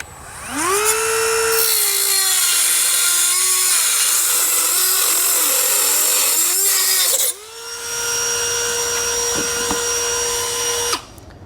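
A die grinder or Sawzall with a metal blade cuts through a metal bracket during base plate installation on a 2019 Buick Envision, with a loud, steady high-pitched whine, a brief pause, then a second sustained cut.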